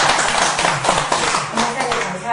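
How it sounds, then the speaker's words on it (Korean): A small crowd applauds with brisk, steady clapping that carries on for a couple of seconds. "목사님 위해서 박수 한번."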